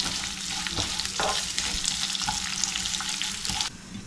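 Onions sizzling steadily in hot oil in a pan while being stirred until light brown, a continuous close frying hiss with soft scraping strokes of the spoon and no voices.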